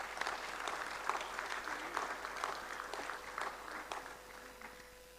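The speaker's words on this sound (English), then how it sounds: "A round of applause." An audience at the World Petroleum Technology Congress 2022 applauds steadily. The clapping is moderately distant and even, with scattered individual claps standing out through the whole stretch.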